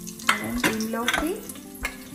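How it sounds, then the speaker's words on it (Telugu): Whole spices including cinnamon, cloves, cardamom, star anise, mace and black pepper frying in oil for khuska rice, a steady sizzle under several sharp scraping stirs of a spoon against the pan. "కొంచెం చూసేసుకొని అది కొంచెం ఫ్రై అవ్వనిద్దాము"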